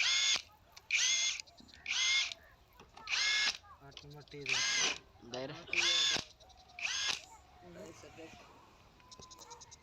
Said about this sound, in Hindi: यहाँ पे गन के ज़रिए से हम इस सभी नट को टाइट करें।